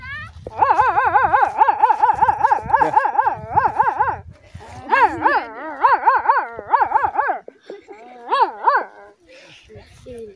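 A voice imitates a yelping, whimpering dog in a series of wavering high cries, with short pauses between bursts, close and loud.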